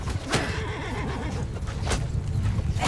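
A horse whinnies in the Mount and Blade Bannerlord video game, a loud high neigh over rough clattering hoof and battle noise that fills the whole stretch.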